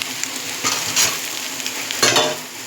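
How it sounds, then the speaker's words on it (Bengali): Egg scrambled in a frying pan with a spatula: a steady soft sizzle underneath and several brisk scraping strokes against the pan, fairly close and with no talking. "আমরা ডিমটা ভালো করে ঝুড়ো করে নিচ্ছি।"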